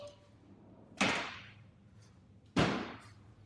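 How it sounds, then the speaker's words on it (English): A door swings shut twice with sharp, loud slams about one and a half seconds apart, each followed by a short fading ring, over a quiet background hum. "We shut the door."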